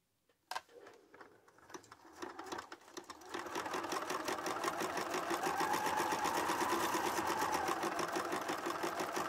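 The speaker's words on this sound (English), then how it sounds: "I didn't want to make you sit there and watch me sew another seam." A sewing machine runs steadily while chain piecing nine-patch quilt seams, starting with a few short bursts and then settling into a continuous, fast, even stitching whir that stays close and loud throughout, with no voices.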